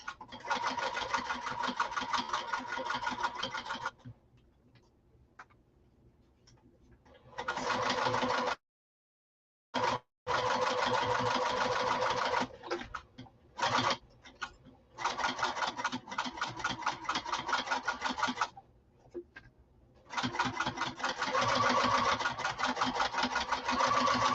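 Sewing machine stitching a slouch bag held with double-sided tape, running in loud steady bursts of rapid needle strokes, separated by short pauses and one brief silence, no voices.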